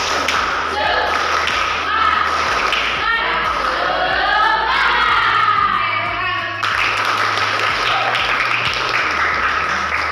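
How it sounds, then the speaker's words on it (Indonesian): A grade 11 class does a rhythmic spirit clap in a classroom, patterned claps and thumps in unison with voices chanting along throughout, close and lively. "Oke, tepuk semangat!"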